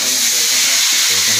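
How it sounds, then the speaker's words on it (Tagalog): Red tilapia frying in hot oil makes a dense, loud, continuous hiss and sizzle that fills the whole clip, with a voice murmuring faintly underneath. "Kiprito na o."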